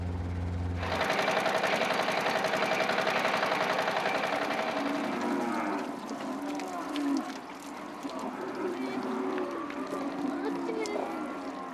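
Cattle being mustered into the yards in the Australian bush, with helicopters and ringers driving the herd; a dense, continuous wash of lowing and bellowing from many animals under a steady drone, loud throughout and thinning slightly in the second half.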